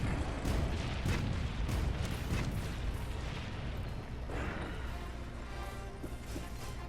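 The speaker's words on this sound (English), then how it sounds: "Bombard him with more cannon fire." Dense rumbling booms of heavy cannon fire against the monster Zorah Magdoros in Monster Hunter: World, repeated in quick succession, with a continuous roar of battle noise filling the background.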